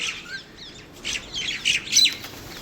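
Several sparrows chirp and tweet in quick, overlapping bursts while eating sev scattered for them, fairly close by, growing a little busier toward the end, with no talking.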